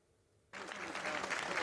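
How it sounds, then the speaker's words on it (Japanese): City hall staff in Tokorozawa, Saitama, welcome a newly elected mayor on his first day with applause, which bursts in suddenly after a quiet moment and continues as dense, steady clapping from a group. "市の職員に拍手で迎えられ花束を受け取りました"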